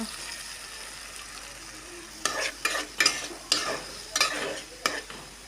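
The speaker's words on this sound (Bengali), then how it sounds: "ডালগুলো একটু কষিয়ে নিব" Lentils with garlic, salt, turmeric and chili being sautéed in a pan for a jute leaf dal: a low background sizzle broken by a run of loud, rhythmic spatula scrapes and stirs in the second half.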